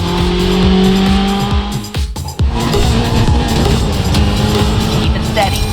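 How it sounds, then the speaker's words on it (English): Race cars roar at high revs with squealing tires in the mobile racing game Racing Master, a loud continuous engine drone broken by a brief crash-like thud and skid midway, with a voice speaking over it. "Another crash in the beginning already?"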